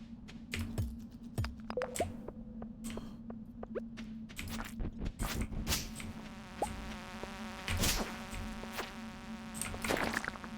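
Insects buzz in a Stardew Valley mine, a steady close drone with sharp clicks and flutters from the game scattered throughout and no speech.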